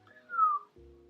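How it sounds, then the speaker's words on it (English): A single short whistle, a clear rising-then-falling tone lasting about half a second, followed by a faint low hum. "Did you hear that whistle?"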